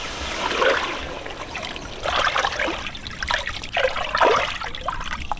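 Masala water trickles and splashes in repeated pours into a simmering village-style egg keema ball curry, close and moderately loud.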